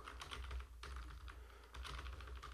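Quick, uneven clatter of keys on a computer keyboard, tapping close and fairly loud in bursts with a brief pause midway, no voices.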